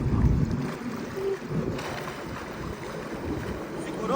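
A jet ski engine revs hard while held in reverse on open water, a loud, steady roar mixed with rushing water and wind buffeting the microphone throughout.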